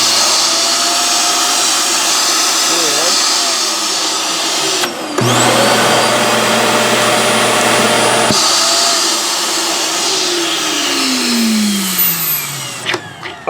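A vacuum cleaner runs inside a 2022 R-POD 193 travel trailer with a loud, steady whine, cutting out and restarting twice before its motor winds down at the end.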